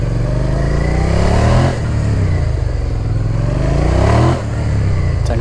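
A motorcycle engine revs hard and loud during Moto Gymkhana riding at steep lean angles, its pitch sweeping up and down in two surging cycles with brief dips between, close and dominant throughout.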